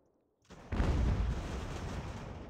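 Cannon fire in the Ultimate General: American Revolution video game, a 1777 campaign battle: a sudden loud booming blast that rolls into a sustained rumbling roar, heard alone without talk.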